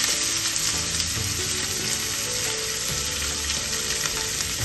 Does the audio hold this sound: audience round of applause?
no